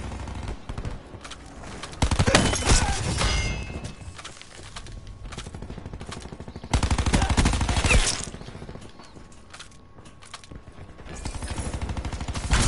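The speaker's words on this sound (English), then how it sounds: "Firing sensor dart." Black Ops 4 combat brings rapid automatic gunfire in bursts, with mechanical clicks and thuds between the louder volleys, steady and close throughout.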